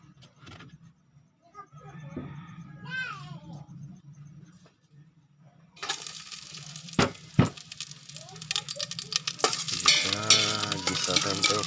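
Food sautéing in a pan, likely balatong (mung beans) with moringa, in a home kitchen: stirring and light scraping first, then a loud burst of sizzling and crackling from about six seconds on, with a cat meowing faintly early.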